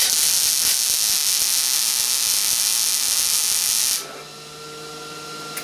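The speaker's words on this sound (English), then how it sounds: "I'm stuck right above it, trying to do a spot weld" A spot weld on the cab corner of an '86 250 truck makes a loud, continuous crackling hiss for about four seconds, then cuts off and leaves a faint hum.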